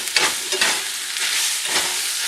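Sausage breaks apart and stirs in a hot frying pan, a steady sizzle running throughout with scraping, chopping strokes at an irregular rhythm, close and fairly loud.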